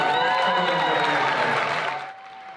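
Applause from an opera audience after a five-and-a-half-hour performance of Parsifal, a dense, steady clatter of many hands mixed with sustained tones that thins and fades out near the end.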